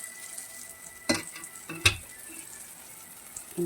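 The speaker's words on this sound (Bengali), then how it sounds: "এরপর আমি ঝোলটাকে ঢেলে" Broth goes into fried spice masala in a pan for a drumstick curry, bringing a faint steady sizzle with two brief louder clatters of utensil on pan, close and quiet.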